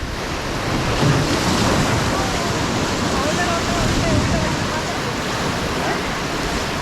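Rushing whitewater of the Ulhas river at Karjat during rafting, a loud continuous roaring wash with wind buffeting the microphone and no clear breaks.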